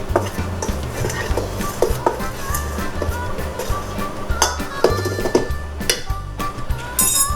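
Biscuit dough stirred in a bowl with a utensil, giving steady repeated scraping and clinking against the bowl alongside low rhythmic thumps, loud and close throughout.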